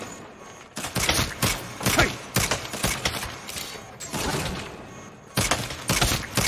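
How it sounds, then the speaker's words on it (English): Gunfire in the Saints Row game inside a museum exhibit, sharp bursts of shots and impacts in uneven clusters, loud and close, with brief quieter gaps between volleys. "Stop shooting the artifacts!"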